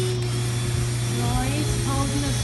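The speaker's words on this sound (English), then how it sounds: "Rory's holding the screws, Grandpa's drilling, and Ronan, you're putting pressure on it" A drill drives screws into a boat-building frame for a Scamp sailboat, a steady high whine with a constant motor hum, while voices talk over it.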